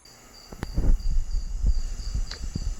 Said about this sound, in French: il y a des insectes qui font du bruit